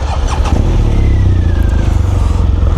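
A BMW R1200GS motorcycle engine runs close and loud with a deep, throaty, pulsing idle and slight revving throughout.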